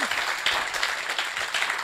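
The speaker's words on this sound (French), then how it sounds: "on peut applaudir en tout cas" Audience applause at a French gaming conference event, a dense steady patter of many hands clapping close and fairly loud throughout, with no talk over it.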